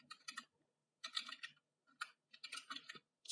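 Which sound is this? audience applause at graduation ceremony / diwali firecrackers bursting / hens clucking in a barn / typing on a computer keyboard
typing on a computer keyboard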